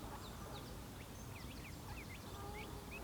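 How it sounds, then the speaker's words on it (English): Ducks calling at a tarn, with scattered faint quacks and chirpy calls over a steady broadband outdoor background; no talk. "There's a couple of ducks come to say hello."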